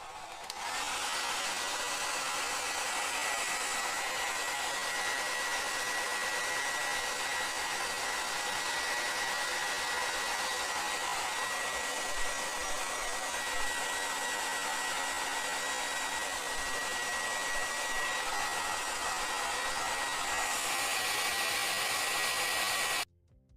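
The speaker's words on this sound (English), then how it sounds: "try to aim the heat gun towards the edges instead of the middle" A heat gun blows continuously on an iPhone X motherboard during data recovery, a steady loud airflow hiss and whine that runs unbroken before cutting off at the end.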